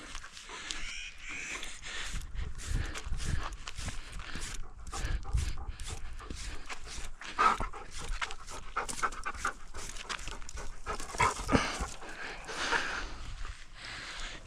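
A husky panting while being brushed in a shady spot outdoors, close rhythmic breathing with scattered rustling and brushing strokes, a crow cawing now and then in the background.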